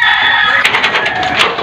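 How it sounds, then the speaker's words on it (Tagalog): A rooster crows at a small backyard poultry farm, loud and near, its harsh drawn-out call rising and wavering over a couple of seconds with faint outdoor background. "may mga bago na kaming manok dito"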